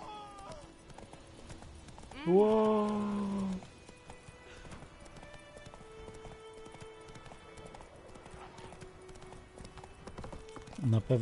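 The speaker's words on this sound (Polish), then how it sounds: "Co ten koń robił?" Horse hooves clip-clop in a fantasy video game, a brief whinny standing out loudly near the start, then quieter game ambience with a person talking throughout.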